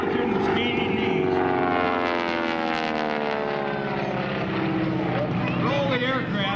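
Propeller airplane flying in aerobatic training, a steady loud engine drone with shifting tones that carries under continuous narration throughout.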